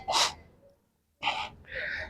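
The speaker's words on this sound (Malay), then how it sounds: "tarik nafas semua" A seminar audience draws in a collective deep breath at a motivational talk, three loud breathy inhalations in quick succession, close and without speech.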